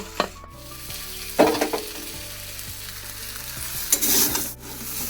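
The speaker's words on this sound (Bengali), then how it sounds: "এদিকে সমস্ত কিছু ভালো করে ভাজা হয়ে গেছে মশলাটাও ভালো মতন কষানো হয়ে গেছে" Vegetables and spices fry in a pan with a steady, moderate sizzle, broken by a few sharp stirring scrapes and clinks, with no talking.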